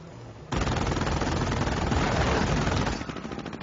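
Sustained machine-gun fire in the Company of Heroes strategy game, a dense, loud rattle of rapid shots that begins abruptly and runs unbroken for about two and a half seconds before easing off.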